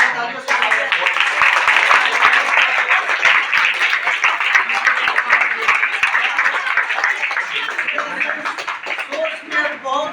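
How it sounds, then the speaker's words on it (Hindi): An audience at a talk applauds steadily to welcome a speaker, dense clapping that holds at a constant level for several seconds without a break. "स्वागत करते हैं संयुक्त का एक तालियों से"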